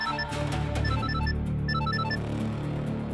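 A telephone ringtone plays steadily, a bright repeating electronic melody of short tones over a low musical bed, continuous and fairly loud with no voices.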